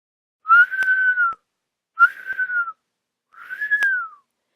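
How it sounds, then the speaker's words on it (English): A woodsman's pipe plays three separate sustained notes, each gliding slightly downward and ending in a soft fall, heard alone with no talking. The tone is pure and whistle-like. "And he started to play the pipe."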